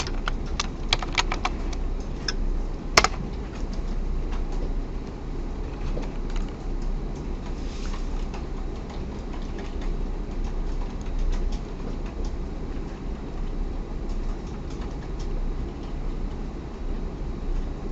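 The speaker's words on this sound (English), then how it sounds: "now I'm going to do some typing that I don't really want you to follow along with" Computer keyboard typing during a recorded programming lecture. Sporadic light key clicks come in short bursts over a steady low hum, and they grow sparse after the first few seconds.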